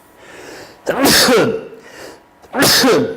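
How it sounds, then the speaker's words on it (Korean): Two loud sneezes from a man during a math lecture, close up, each a sharp burst about a second and a half apart, with a short inhaled buildup before the second. "갑자기 재채기하고"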